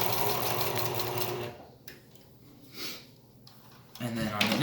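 A sewing machine runs steadily while stitching a fabric face mask, loud and close, then pauses and restarts briefly near the end.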